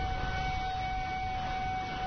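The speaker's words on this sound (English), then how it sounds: "it's a big difference between hearing these sirens 4 or 5 times every season" Tornado warning siren wailing as a steady tone over dense broadband noise, loud and continuous throughout with no voices.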